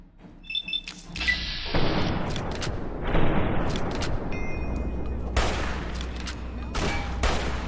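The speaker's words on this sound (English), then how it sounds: "Shots on anti-material rifle" Anti-materiel rifle shots in Fallout New Vegas during the battle at Hoover Dam, deep booming reports over sustained background gunfire and rumbling combat noise, with faint talk mixed in.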